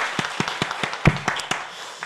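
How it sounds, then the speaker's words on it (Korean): A church congregation claps in praise during a Sunday service, a short run of sharp, fairly even claps at a moderate distance, thin and modest in volume. "한 번 더 박수로 찬양합시다."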